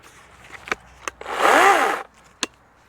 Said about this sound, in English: Ego 14-inch chainsaw.